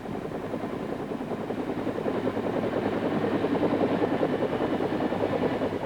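AH-1G Cobra gunship helicopter in flight, a steady loud rotor and turbine drone with a fast, even blade chop that holds constant and rises slightly toward the end, with no voices.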